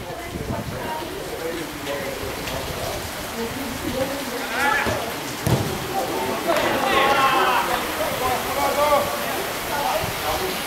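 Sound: rain falling at a football match in Rio de Janeiro

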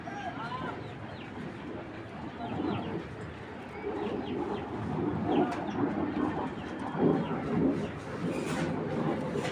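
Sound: pigeon cooing

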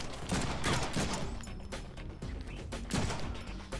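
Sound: gunfire in Deadpool video game

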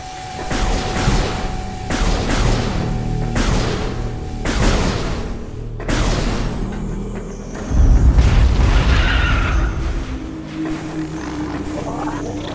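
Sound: exploding larva creatures in the video game Metroid Prime Remastered

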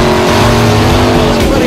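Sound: Monster truck engine revving at a show

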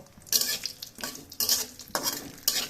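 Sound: kalai dal (black gram) frying and being stirred in pan

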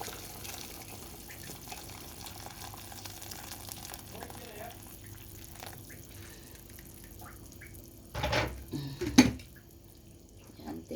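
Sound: hot water poured into cooking pot for chicken tinola

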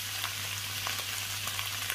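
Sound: frying hot peppers and tomato in butter

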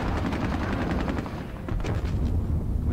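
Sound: tank firing at barbed wire in a war video game (Squad Battles)

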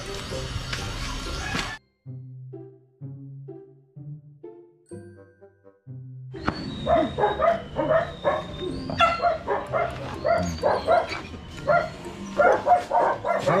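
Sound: dog barking and whimpering

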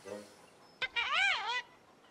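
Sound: chickens clucking in a cartoon

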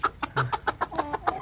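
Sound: chicken clucking

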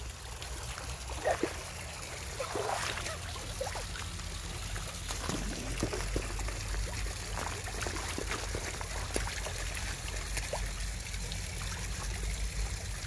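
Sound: mountain stream water flowing strongly

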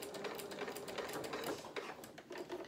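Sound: sewing machine stitching fabric

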